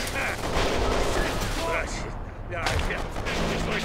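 Gunfire in the video game Kane and Lynch 2, with dense bursts of shots and sharp reports spread across the clip and a brief lull in the middle. Game noise and voices mix in under the shooting.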